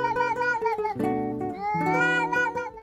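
Kitten meowing close up, a short run of several high, wavering mews in quick succession with no talking.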